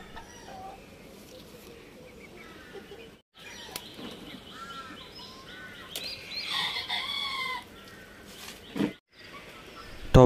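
Chickens on a rooftop garden cluck and crow near and loud, with a rooster's cock-a-doodle-doo rising midway and scattered clucking and rustling throughout.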